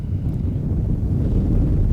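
Gusty wind buffets a microphone outdoors at a news report in Green Bay, a loud, continuous low rumble with no voices.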